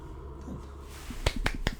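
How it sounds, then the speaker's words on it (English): A few slow, evenly spaced hand claps, a polite golf clap after a first completed Classic 2CV race at Oulton Park; three distinct claps stand out over quiet background noise. "Golf clap"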